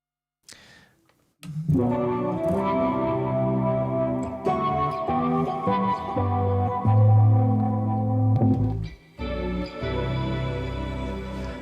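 Electric guitar played through an ambient pedalboard, sustained chords washed in echo, chorus and reverb, loud and close, with a brief pause before the ringing tones swell back in.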